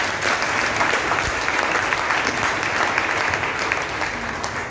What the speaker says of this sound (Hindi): खुद के लिए जोरदार तालियां।